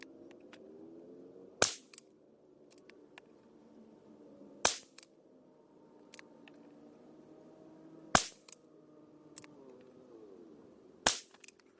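Four sharp, loud cracks from a Savage Rascal .22LR rifle firing Aguila Super Extra high-velocity rounds at steel targets, spaced about three seconds apart, with quiet handling noises between shots.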